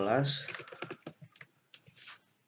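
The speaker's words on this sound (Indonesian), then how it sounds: "kemudian kita ketikkan" Quick, light keystrokes on a computer keyboard while entering IP addresses for a mail server setup, scattered taps in short bursts following a brief stretch of speech at the start.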